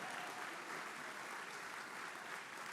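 Applause from the audience at a county gun owners' awards event honoring the member of the year. It is a continuous, even patter of many hands, fairly distant and quiet, with no voices over it.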